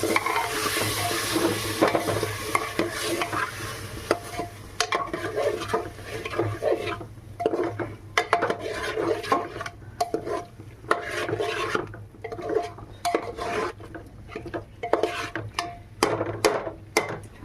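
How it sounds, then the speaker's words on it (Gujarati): Potatoes being stirred in a pan for a street-food dish, with repeated scraping and clattering strokes of a spoon against the metal over a steady sizzle, close and fairly quiet. "અને હવે આપણે આને હલાવી નાખશું."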